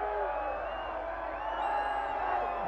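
Australian rules football grand final crowd in Capricornia keeps up a steady, loud roar of shouting and whoops, with a commentator talking over it throughout.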